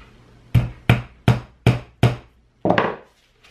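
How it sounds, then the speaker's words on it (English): A hammer drives a nail into a wooden board for string art with five sharp, evenly spaced strikes, then a heavier final blow, each ringing briefly and close with no talking. "When you nail it in, you're not gonna wanna nail your nail completely in"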